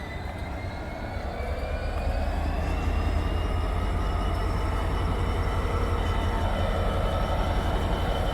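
GBRf Class 66 diesel locomotive 66724 'Drax Power Station' departs at the head of freight train 4O19, a loud, steady engine rumble with droning wagon noise and faint whining tones that rise slowly as it pulls away.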